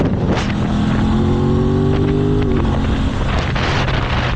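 An Aprilia motorcycle is ridden on a demo day, its engine droning under steady wind buffeting while the pitch climbs and then drops abruptly at quick-shifter gear changes.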